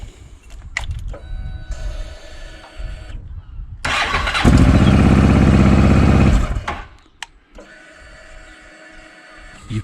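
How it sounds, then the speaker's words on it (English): A Honda XL700 motorcycle engine cranks and catches, roaring loudly for a couple of seconds before cutting off, with mechanical clicks and whirring before and after. "Alright, let's start the engine up."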